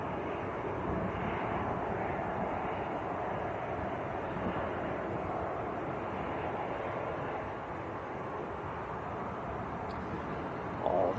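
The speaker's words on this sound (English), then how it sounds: "This is Jet2 to Lanzarote, A321 Neo." A Jet2 Airbus A321neo at Manchester Airport produces a continuous broad engine roar, steady and moderately distant, with a wind-like rushing texture holding for the whole stretch.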